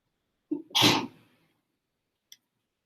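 A single sharp sneeze bursts out close up with a quick inhale before it, followed by silence and a faint click.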